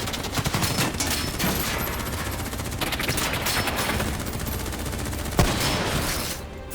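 Continuous heavy gunfire in a Call of Duty: Black Ops 3 cutscene, a loud, unbroken barrage of rapid shots with a sharp crack near the end before it eases slightly.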